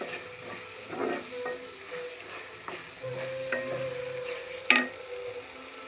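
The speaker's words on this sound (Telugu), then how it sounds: "గోంగూర మంచిగా నూనెలో మగ్గింది" Gongura leaves cooking down in oil in a pan: a quiet, soft sizzle with occasional light stirring scrapes and a sharper clink near the end, no talking.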